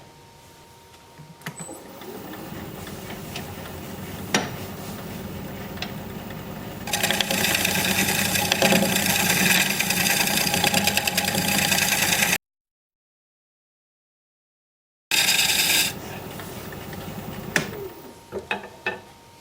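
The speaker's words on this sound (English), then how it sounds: "I'm going to try a little shear scraping over here." Shear scraping on a cherry wood bowl spinning on a wood lathe: a steady, loud, hissing scrape with a motor hum beneath, starting after a quieter stretch, breaking off briefly, then resuming.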